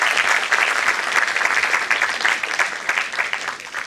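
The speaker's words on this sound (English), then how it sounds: "So please give yourselves firstly a big round of applause." Auditorium audience breaking into sustained applause, a dense, steady wash of many hands clapping with no talk over it.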